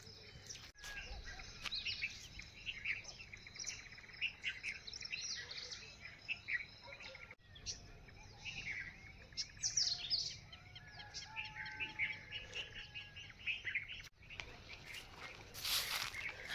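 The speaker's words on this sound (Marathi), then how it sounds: "पक्ष्यांचा किलबिलाट" Birds chirp and tweet in a quiet early morning on a farm, with scattered calls near and far over faint insect buzzing.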